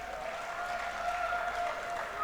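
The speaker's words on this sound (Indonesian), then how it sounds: "Tepuk tangan untuk SMTI." Audience applause at a graduation ceremony for a technical high school in Banda Aceh, a steady, even wash of clapping from a large crowd heard at moderate distance, with no voices over it.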